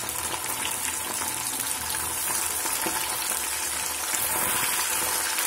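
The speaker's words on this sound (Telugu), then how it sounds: "కొంచెం కొంచెం చికెన్ వేసి ఇలా వేయించాలి." Chicken pieces seasoned with salt and turmeric frying in hot oil over medium heat for a chicken pickle, a steady, dense sizzle and crackle running continuously without voices.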